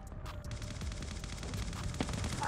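Rapid automatic gunfire crackles through a Call of Duty multiplayer match using an M4 light machine gun build, a dense continuous burst of shots over steady game background noise.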